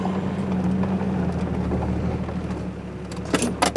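A car's engine rumbles steadily at low pitch while reversing to park near a house, with a few bright metallic rattles and clinks near the end.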